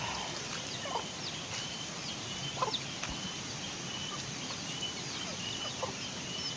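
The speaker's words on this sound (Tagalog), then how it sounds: "Ayan yung mga manok." Scattered clucks and gobbling calls from poultry sound faintly over a steady outdoor hiss, with a few short calls standing out.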